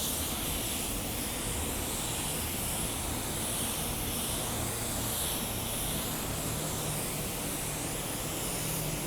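Steady, dense hiss of a spray gun laying blending additive over car panels during a paint job, continuous and close for the whole stretch with no pauses and no voices.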